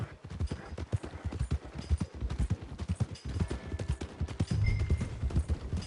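Horse hooves clip-clop steadily in Red Dead Redemption 2, played on a PS4 Pro, with a close, even rhythm of hoofbeats over a low game ambience.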